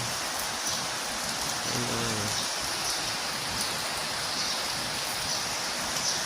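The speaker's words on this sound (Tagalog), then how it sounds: "Maulan po rito, guys, maulan." Steady rain pours down at a mountain farm resort, a dense, even hiss of drops that stays constant throughout with no pauses.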